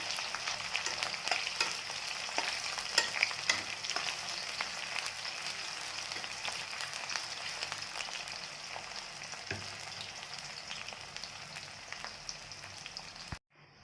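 Oil sizzles and crackles steadily as onions fry in a pan before chicken is added, with occasional stirring clatters; the sizzle cuts off abruptly at the end.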